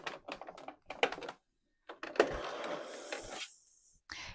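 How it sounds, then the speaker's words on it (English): A sewing machine top stitching around the top of a fabric lanyard pen holder runs in one steady, close burst of rapid mechanical stitching with a faint whir, after a few short taps and clicks. "now we need to top stitch all the way around the top on both of them"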